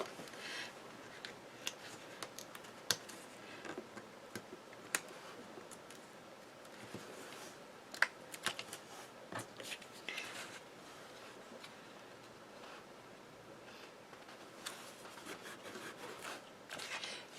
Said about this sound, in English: So I'm just going to trim that right off now